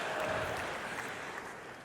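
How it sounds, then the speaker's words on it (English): Audience applause at a tech demo, a brief steady wash of clapping heard from a distance, fairly faint and even throughout. "I had a suspicion that new formula bar would be the part of the demo that got the most applause"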